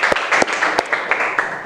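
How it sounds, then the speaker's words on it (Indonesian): Classroom students clapping in a few loose bursts, close and moderately loud, with a steady murmur of room noise between the claps. "tepuk tangan dulu kita untuk suara kita ya"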